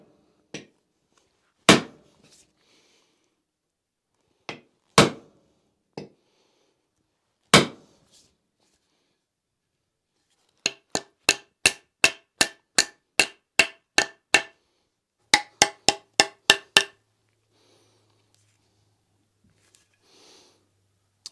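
Hammer blows drive a wooden handle into an axe head, struck from the end: a few spaced, loud knocks, then two fast runs of rapid strikes separated by a short pause, in a quiet room.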